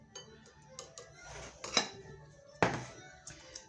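A utensil clinks and scrapes against a bowl while sardine muffin filling is being mixed. The taps are close but quiet and irregular, with a couple of sharper knocks, and nobody speaks.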